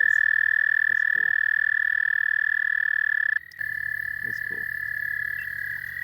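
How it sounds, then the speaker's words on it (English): Numerous American toads trill at night in a long, steady, high buzzing chorus that briefly drops out and resumes, with short pulsed calls from nearby individuals and a brief word of speech. "There's also just toads. Little Americanus party out here tonight."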